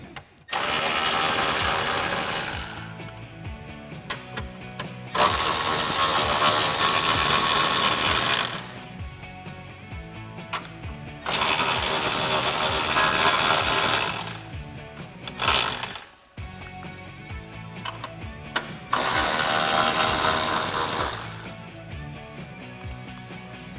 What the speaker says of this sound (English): So I'll take my 10mm socket and get these out.